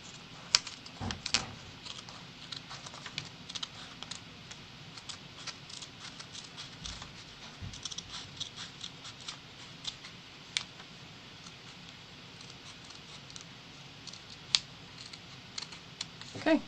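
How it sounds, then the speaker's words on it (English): Scissors snip through two folded layers of paper while making origami krill, giving small, close, irregular clicks and crisp snips over a quiet room with no talking. "And again, cutting through both layers, just cut it most of the way up."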